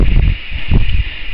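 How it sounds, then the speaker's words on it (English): Gusty wind buffets on an open fell walk around Buttermere and Red Pike, low rumbling blasts rising and falling in two surges over about a second. "the only thing that's spoiling it is the wind"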